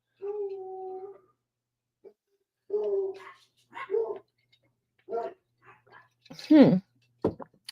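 Hound dogs bark and howl in scattered bursts at mid distance, some drawn out and baying, with gaps of quiet between them indoors.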